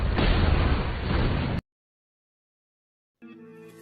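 A car bomb detonates in a film scene, a loud dense blast roaring for about a second and a half before cutting to silence, then a brief musical tone enters.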